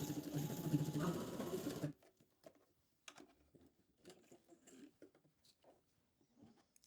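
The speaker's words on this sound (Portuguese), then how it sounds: "Fazer a primeira costura na beirada, com retrocesso no início e no fim." A sewing machine runs a quick, steady stitching burst along a fabric edge for about two seconds and then stops, followed by faint handling clicks and rustles.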